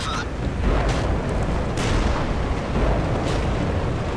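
Enemy tank shells strike and bounce off an armored tank in a combat video game, a dense run of heavy booms and bursts layered over rumbling battle noise.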